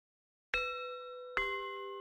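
Two bright chimes of a school bell in the game Your Turn To Die ring out alone against silence, each struck clearly and left to ring and fade.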